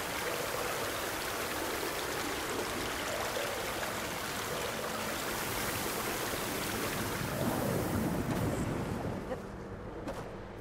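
Rushing water fills the scene in the video game Horizon Forbidden West, a loud, broadband roar flowing steadily for about ten seconds inside a sunken cauldron, then easing slightly near the end, with no talk.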